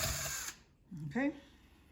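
A power drill whirs at high speed for half a second and stops, followed by a short spoken remark.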